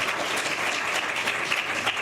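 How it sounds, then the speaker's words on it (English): Audience applause for the panelists at the close of a governance discussion, a dense, steady wash of many hands clapping that holds evenly throughout with no voices on top. "Let's give all panelists a round of applause for this discussion today."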